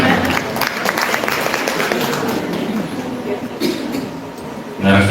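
Audience applause at an IGRA Tegal regency anniversary gathering and workshop, a dense steady patter of clapping that holds for about five seconds, then swells louder at the very end.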